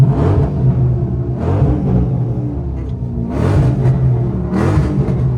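A loud, modified 500 hp 5.7-litre car engine with a choppy cam idles with a lumpy, uneven rumble, swelling in periodic bursts as the throttle is blipped; no voices.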